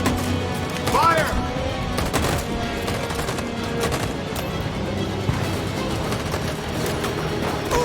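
Gunfire in the game Detroit: Become Human, scattered shots and bursts cracking across a noisy battle scene, with shouted voices over it.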